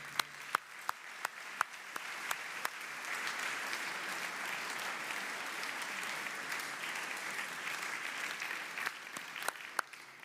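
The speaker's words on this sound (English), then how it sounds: "Thank you very much for this very warm applause" Sustained, warm applause from an audience at a startup demo day for a student project, steady dense clapping with a few louder individual claps standing out near the start and end.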